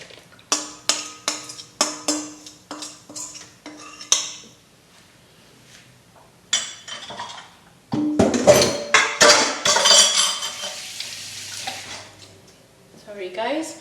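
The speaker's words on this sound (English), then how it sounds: "So we need to mix this into our big bowl with the dry ingredients" Wet mixture stirred into dry ingredients in a big mixing bowl for a Black Forest gateau, a run of sharp spoon knocks and clinks against the bowl followed by denser scraping and stirring.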